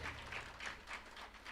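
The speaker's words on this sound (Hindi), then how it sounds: "इसलिए सहयोग ताली का बनता है।" Steady rhythmic clapping from an audience keeping time during a devotional bhajan at a Ram katha gathering, the claps evenly spaced at about three per second, moderately loud and sustained.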